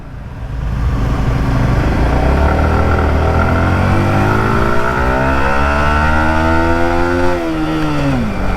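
Vehicle engines labour up a steep hill road, a loud continuous drone whose pitch slowly rises and then bends near the end, close and steady with no voices.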